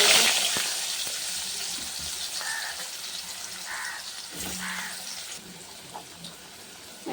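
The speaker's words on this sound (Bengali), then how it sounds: "আলুটা ভেজে নেব।" Potatoes fry in a pan with a soft, hissing sizzle that is fairly loud at first and settles to a quieter steady crackle, with a few faint knocks and clinks and no speech.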